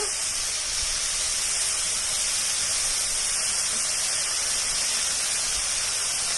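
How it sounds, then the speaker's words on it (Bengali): Whole dried red chillies sizzling in hot oil as a tempering for yogurt chicken, a loud, continuous, even hiss that holds steady from start to finish with no voices. "ওই তেলের মধ্যেই আমি কিছু ফোড়ন দেব। শুকনো লঙ্কা গোটা"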